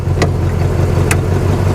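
Chevrolet Monte Carlo SS, abandoned for 20 years, idling close by with a loud steady low rumble, broken by two short sharp clicks.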